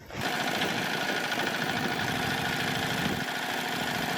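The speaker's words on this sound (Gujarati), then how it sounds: "દરેક મોડલમાં પાંચ હોર્સ પાવરનું કોમેન્ટ કંપનીનું ડીઝલ એન્જિન આપેલ છે" A 5 hp Comet diesel engine on a mini cultivator runs steadily, a continuous rapid mechanical chatter at close range that starts abruptly and holds an even idle throughout.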